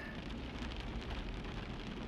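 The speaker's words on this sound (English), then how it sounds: "it's raining" Steady rain falls outdoors at night in Orlando, a dense, even hiss of drops on surfaces that runs unbroken throughout with no voices.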